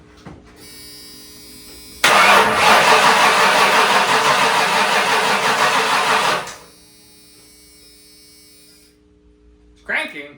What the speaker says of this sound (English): It's cranking. Feels slow, but it cranks.